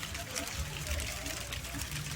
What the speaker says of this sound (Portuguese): Começou a chover agora, está pingando.